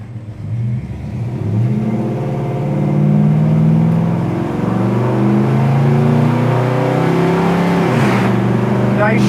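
A 1968 Ford Torino's 302 V8 pulls hard up close, the engine note climbing through the revs, dipping at a gear shift and then climbing again.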